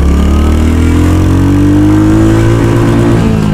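A Royal Enfield Hunter 350 motorcycle accelerates hard in first gear. Its engine drones loud and close, and the pitch climbs steadily across the run.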